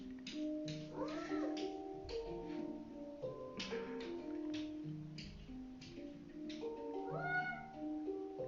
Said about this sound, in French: depuis à peu près une demi-heure, elle fait que miauler